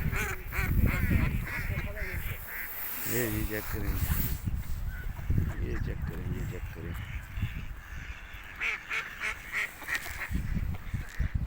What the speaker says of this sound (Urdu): یہ دیکھیں جی، یہ چیک کریں جی، یہ کتنی زیادہ بطخیں ہیں